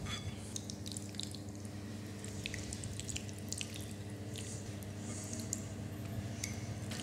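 A filling mixture is poured into a puff pastry shell, giving faint wet drips and soft squelching ticks over a steady low background hum.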